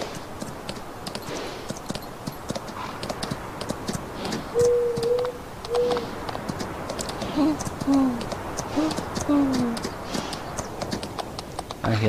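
Owl hoots in the Farming Simulator 19 game world, a few soft, short tonal calls repeated at intervals over a steady outdoor ambience with faint clip-clop and clicks.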